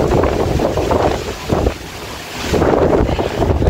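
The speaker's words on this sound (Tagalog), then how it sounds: "Tambay muna ako dito habang malakas pa yung ulan." Strong wind buffeting the microphone at a seaside pavilion during heavy rain, loud rumbling gusts that ease briefly midway and then surge back, no talk.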